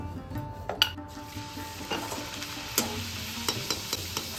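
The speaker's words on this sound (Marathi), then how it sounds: "सगळ्या पुऱ्या पटापट आधी तळून घेतल्या" Puris deep-fry in hot oil with a soft, fairly quiet bubbling sizzle, broken by a few light clinks and scrapes of a utensil, heard close with no talking.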